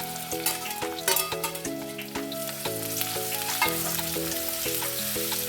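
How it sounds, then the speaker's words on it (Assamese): Ginger garlic paste fries with browned onions in oil, a steady sizzle with brief scraping stirs near the start, set under continuous background music. "আদা নহৰু কেঁচা গোন্ধ নোযোৱালৈকে মই এনেকৈ ভাজি থাকিম।"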